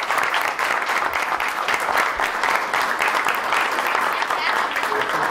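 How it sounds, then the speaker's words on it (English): A school board meeting audience gives sustained, loud applause, dense continuous clapping from a full room lasting throughout, with faint voices mixed in. "And let's give you all a round of applause."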